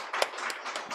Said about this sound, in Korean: 우리 교육부 전체를 위해서 격려의 박수 좀 부탁드릴까요?